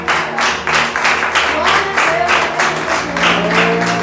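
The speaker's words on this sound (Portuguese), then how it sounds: "Você pode aplaudir o seu Jesus?" A church congregation at a worship service applauds, a steady dense clapping with rhythmic pulses, loud and close, over a sustained background tone and some voices.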